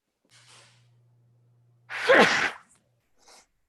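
One loud, sharp sneeze preceded by a soft intake of breath, with a faint breathy sound afterward in an otherwise quiet room.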